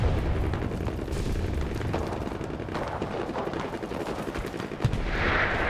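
Mortar shells pound the battlefield in the Enlisted war shooter, a dense continuous rumble of explosions and gunfire close by, with no voices.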